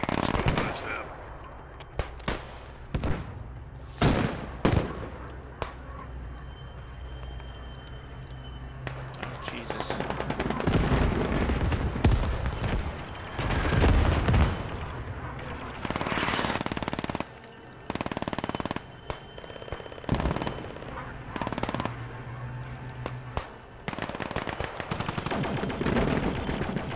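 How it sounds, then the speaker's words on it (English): Turbo laser fire from a sail barge in a Star Wars game battle on Tatooine: loud repeated blasts and rapid bursts of shots, some close and some far, over continuous battle noise, with a voice speaking at times. "there is a sail barge with a giant turbo laser attached to it that's currently shooting"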